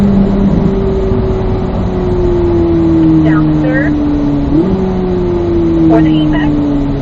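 A race car accelerates hard on a track, its engine note climbing steadily and then dropping sharply at a gearshift into fourth before rising again, loud and continuous, with an instructor talking over it.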